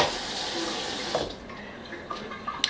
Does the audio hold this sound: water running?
yes